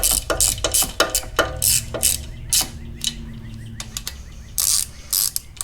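Bolts on a Kawasaki FR730V engine being tightened with a ratchet, giving repeated quick bursts of clicking close by, with short pauses between bursts.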